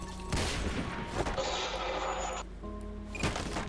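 Sniper gunfire in the video game The Decaying Winter, with sharp loud cracks at the start and again near the end amid game ambience.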